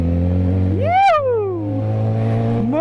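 A Yamaha XJ6 motorcycle engine revs sharply from idle, rising and then sliding back down, followed by the start of a second rev. Loud and close, with a steady idle rumble underneath and no talking.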